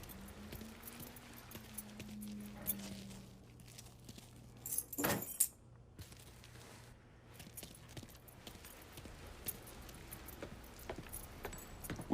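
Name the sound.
keys being picked up in video game Mafia III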